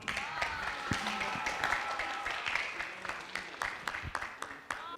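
An audience at a student humanities festival gives scattered, uneven handclaps for the final team presentation, a Starbucks company analysis; the claps are sparse and irregular rather than a full ovation, with faint murmuring underneath.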